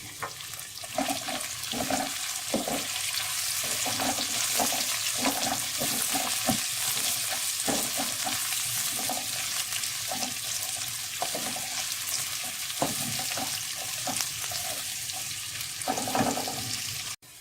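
Chopped onions frying with okra in a pan give a steady, loud sizzle, broken by repeated scraping and stirring clatters throughout, with no talking.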